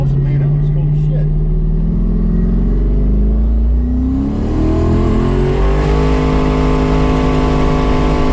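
A 1200-horsepower Camaro accelerates hard on warmed-up tires, its loud, close engine note climbing steadily in pitch as it pulls, with a continuous roar and rumble throughout.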